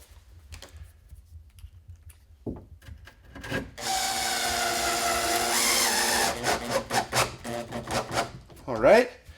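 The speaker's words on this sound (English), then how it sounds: "So I'm just going to put a final screw in it." A screw driven home while a bathtub is fastened to the walls, heard as a rising power-driver whine with grinding, rasping bursts from about four seconds on, followed by a few short clicks and knocks near the end.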